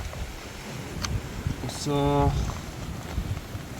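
A gusty wind blows on a Danube riverbank during a fishing session, a rough rushing noise buffeting the microphone, while someone briefly speaks over it.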